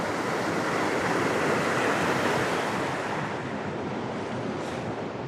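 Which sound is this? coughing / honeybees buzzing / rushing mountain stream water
rushing mountain stream water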